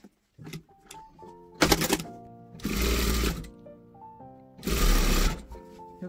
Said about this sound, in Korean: 맞추셔서 이렇게 박음질을 해주세요.